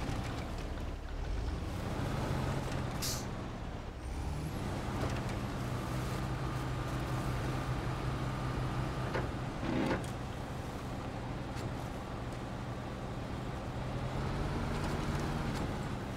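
A truck engine in the SnowRunner video game strains as it churns through deep mud, a loud, steady low rumble that holds throughout with a few brief clunks and shifts.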